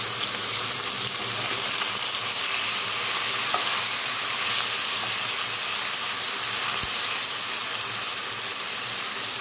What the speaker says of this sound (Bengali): ওর জন্য আমি চিকেন ফ্রাই করবো।